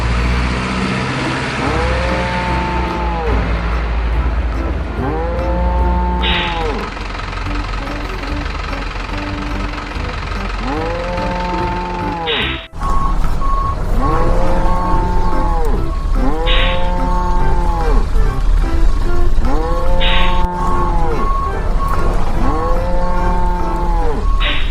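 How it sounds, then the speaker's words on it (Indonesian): A swaying truck loaded with cows and buffaloes carries repeated loud, drawn-out moos from several animals, calling in a steady run over a constant engine rumble, with a thump partway through. "lihat truk oleng sudah muat sapinya teman-teman"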